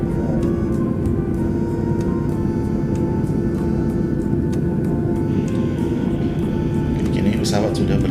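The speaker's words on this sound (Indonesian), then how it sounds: "Kini pesawat sudah berada di ujung landasan pacu untuk antri take off" A passenger airliner holds at the end of the runway awaiting takeoff, its engines giving a loud, steady cabin hum and rumble throughout, with a voice talking over it.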